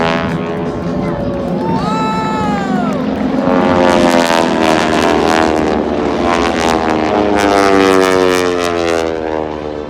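Aeroshell aerobatic team propeller planes fly overhead at the 2019 Abbotsford, BC airshow with a loud sustained droning roar, pitch sweeping as they pass, and an announcer's voice and crowd noise underneath.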